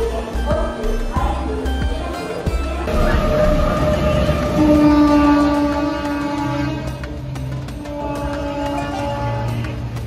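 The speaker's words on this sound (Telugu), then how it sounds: "అది కూడా లోకల్ ట్రైన్" Local commuter train in Tamil Nadu, steady rumble of the carriage with a sustained horn-like tone rising midway, loud and continuous throughout.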